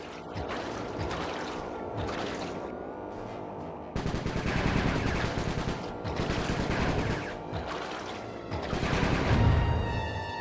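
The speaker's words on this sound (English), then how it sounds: "Nice shooting, Bentley." Bursts of gunfire in the video game Sly 3 crackle in rapid, dense volleys that start and stop across the stretch, loud and close over a game soundtrack, with a heavier rumble near the end and no voices.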